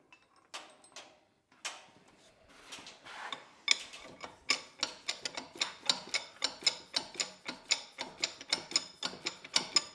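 A cherry picker engine hoist lifts one end of a four-post car lift, its ratcheting mechanism clicking in a steady series of sharp metallic ticks that grow more regular and louder after a few scattered clanks, with no talking.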